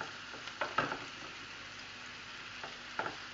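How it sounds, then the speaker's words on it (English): Ingredients sautéing in a pan for a peanut biltong stew, a faint steady sizzle broken by a few soft scraping stirs and small clatters. "Let me just saute that for a little bit."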